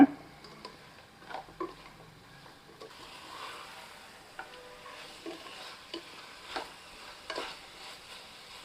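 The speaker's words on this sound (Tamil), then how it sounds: "இதை நம்ம நல்லா கலந்து விட்டுக்கலாம்" Chicken curry is stirred in a pan, quiet scraping and clicks of a spoon against the metal with a faint simmering sizzle underneath, close but soft, with irregular stirring strokes and no speech.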